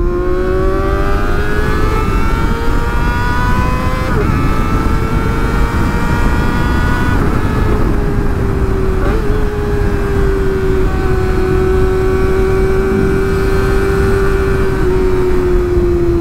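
Car engine revving and accelerating, a loud continuous roar with a rising and falling tone as the driver pushes through gears, constant and close with no talk over it.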